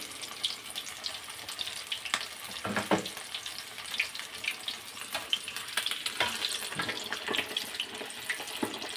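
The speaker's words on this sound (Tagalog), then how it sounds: "Kailangan po talaga dito ay deep fry." Breaded chicken skin chicharon deep frying in hot oil, a continuous bubbling sizzle with crackles and spatters throughout, no voices.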